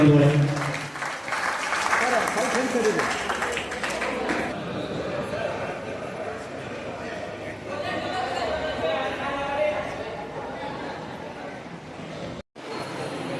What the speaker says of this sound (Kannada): ನಿಮ್ಮ ಸ್ನೇಹಿತರಿಗೆ ಒಮ್ಮೆ ಜೋರಾದ ಚಪ್ಪಾಳೆಯನ್ನು ತರಬೇಕಾಗ್ತದೆ